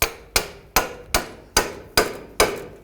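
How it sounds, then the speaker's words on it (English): Seven sharp metallic hammer strikes at a steady pace, driving a pickle fork into a ball joint on a 2011-2017 Honda Odyssey, each ringing briefly before the next, close and loud with no talking. "We're going to put our pickle fork right about here, and we're going to hammer it"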